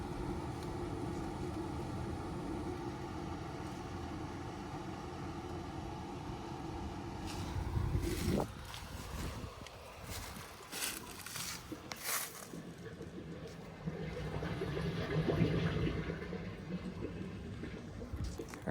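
An old Ford Pinto engine drives a water pump, giving a steady, continuous motor hum for the first half. After a brief disturbance it settles into a rougher, lower running sound, heard near and alone.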